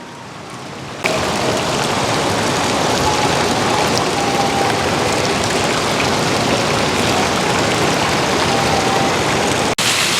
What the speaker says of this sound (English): I like all the little water features and waterfalls.